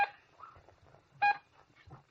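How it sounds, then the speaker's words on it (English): A ship's collision alarm in a 1958 science-fiction radio drama sounds as two short electronic beeps about a second apart, faint, over a quiet, muffled background. "First, you've heard the collision alarm."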